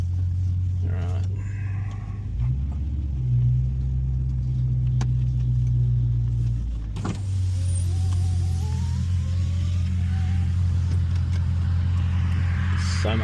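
A Holden HSV Clubsport with a 2.5-inch exhaust upgrade drones low and deep from inside the cabin as it drives on the road, shifting pitch with gear changes, with people talking over it.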